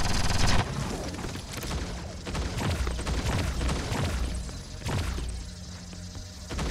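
Gunfire and blasts in the T3 Arena shooter game, a dense run of rapid shots and booms with bursts that rise and fall throughout, loud and continuous with no voices.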